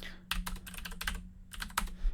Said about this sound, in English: I just typed poorly my password.